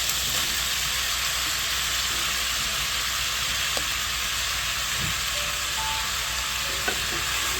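Meat with boiled broccoli and soy sauce fries in a pan, giving a loud, steady hiss and sizzle throughout, with an occasional faint stirring clink and no voices.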